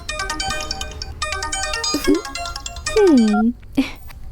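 A mobile phone ringtone plays loudly and continuously as a bright electronic melody, with a cat-like meow and other short sounds briefly cutting in near the end.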